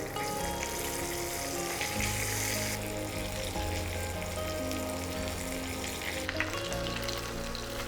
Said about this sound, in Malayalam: ഇനി ഓരോ സൈഡും നമുക്ക് 5 മിനിറ്റ് വെച്ച് പൊരിച്ചെടുക്കുക